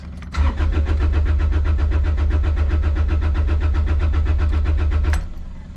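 A Kubota KX36-3 excavator's engine cranks with a fast, rhythmic chugging for about five seconds but never catches, then cuts off abruptly.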